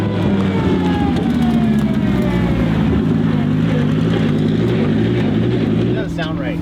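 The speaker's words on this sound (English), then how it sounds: "It sounds flat. It sounds like it's down a cylinder." A Lamborghini engine running rough and flat as if down a cylinder, heard as a loud steady droning rumble with uneven harmonics, with people talking over it.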